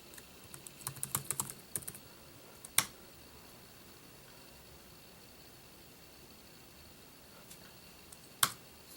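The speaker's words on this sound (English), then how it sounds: "Let's go ahead and put my password in for my Wi-Fi network." A quick burst of keystrokes on a 2015 13-inch MacBook Pro Retina keyboard, close and fairly quiet, followed by a couple of isolated sharp key clicks after a pause.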